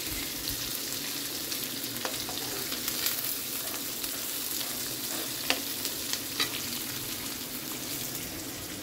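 Vegetables fry and sizzle steadily in a pan, a close, continuous hiss broken by a few light stirring scrapes and clinks, with no talking.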